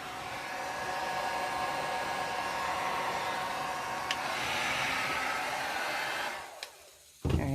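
A heat tool blows hot air under a tumbler to warm metallic alloy ink, a steady close hiss and whoosh that runs for about six seconds, cuts off, then briefly resumes.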